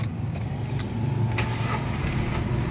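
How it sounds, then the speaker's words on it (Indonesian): The engine of a 2000 Suzuki Karimun Kotak 1.0 DX manual car starts and settles into a steady, close idle rumble, with no talk. "Oke, sekarang kita nyalakan mobil."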